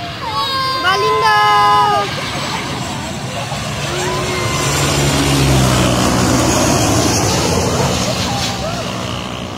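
A British Airways airliner passes overhead near KLIA, its engine roar swelling and fading over several seconds, with birds chirping early on and people talking nearby.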